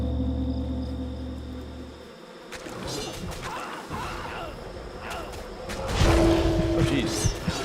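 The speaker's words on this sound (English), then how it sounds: "Get messed up by these bees, man." Bees buzz in the video game Titan Quest, a thin insect drone that rises after a short lull and mixes with combat thuds, gasps and someone talking over the gameplay.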